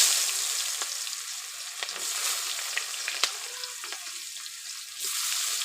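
Chopped onions hit hot mustard oil and fry with a loud, steady sizzle and scattered crackles, close up, with no talking.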